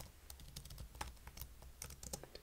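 Quick, crisp keystrokes on a MacOS computer keyboard as an SSH keygen command is typed, an irregular burst of close clicks alone in a quiet room.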